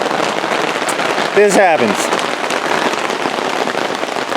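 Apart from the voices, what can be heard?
rain falling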